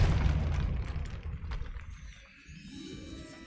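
Depulso force spell cast in Hogwarts Legacy, a loud bursting boom that starts at once and rumbles, then fades into a quieter low tail with a faint ringing shimmer, no voices.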